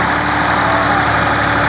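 Two tractors straining together to drag a heavy trailer out of a pit, their engines giving a steady, loud, low rumble that never lets up from start to finish.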